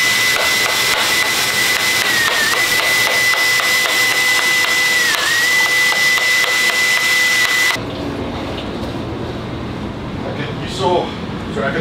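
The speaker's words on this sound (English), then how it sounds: "I got the cordless drill and the mixer" A cordless drill with a mixer attachment whirs steadily and loudly at close range, its tone dipping briefly under load, then cuts off abruptly, leaving quieter room noise and faint handling sounds.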